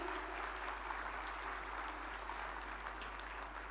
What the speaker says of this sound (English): Let's have a roaring applause,